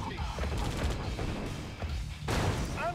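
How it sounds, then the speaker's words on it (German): Gunfire and artillery-like blasts from the video game Command & Conquer: Red Alert 2 during a battle, with rapid rattling bursts and muffled booms under game voices and a busy battlefield background. "Erdsammler unter Beschuss."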